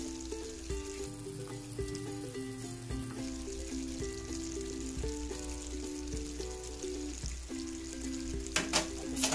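Beef curry with potatoes and carrots stirred in a pan, a continuous soft sizzle and bubbling with occasional spoon scrapes and a brief clatter near the end, no talking.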